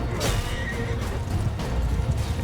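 A horse on a Mount and Blade II Bannerlord battlefield gives a short, loud whinny over a dense rumble of hooves and combat noise.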